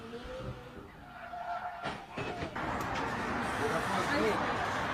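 A McLaren Senna supercar's tires skid, then a louder, sustained rough roar of impact and scraping against a wall follows, with excited talk over the top.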